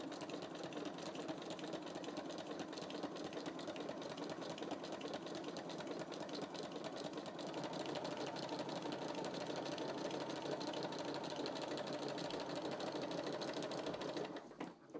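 A sewing machine stitches a zigzag in one long steady run, a close, even mechanical whirr that stops abruptly at the end, with no talk.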